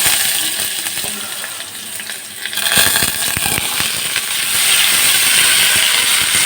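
Potatoes dropping into hot oil already spiced with nigella seeds and green chillies, a sharp burst of sizzling that swells and stays loud and steady, with scattered pops and spatters throughout.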